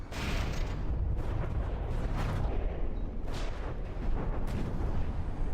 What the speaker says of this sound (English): the cram explosions exploding behind or close to a craft basically makes it fly up a little bit in the air